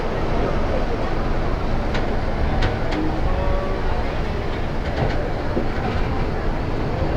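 A local train pulls out of a station toward Mohanganj in Bangladesh, a steady loud rumble of wheels and carriages with faint clicks and squeals, running continuously under background noise.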